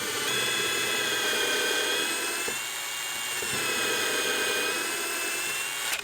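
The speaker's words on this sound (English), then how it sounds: "It drills right into the top of a workbench." A power drill boring into the top of a thick workbench, a steady high-pitched whine with a sustained tone and a brief dip partway through, heard alone at close range.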